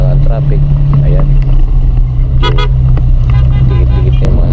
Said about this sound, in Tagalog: So dito nagsisimula na ang traffic.